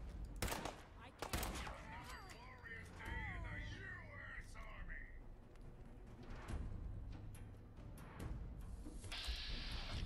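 Gunfire in the video game Fallout 4 against robots, several sharp shots and bursts at moderate loudness, scattered through the stretch and mixed with game effects under a player's talk.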